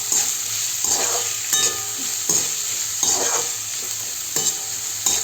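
Finely chopped onion hits a hot pan of oil for fried rice, a loud close sizzle punctuated by rhythmic stirring scrapes every second or so, no talking.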